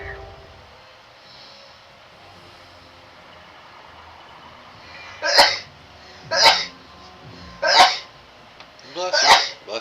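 Four sharp sneezes burst out in a steady row, each loud and close, after a few seconds of faint background murmur during a live Wizard101 gaming stream.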